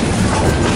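Train running along the Ban Laem to Mae Klong railway line through mangrove forest, a steady, loud rumble and rattle of wheels and carriages filling the whole moment.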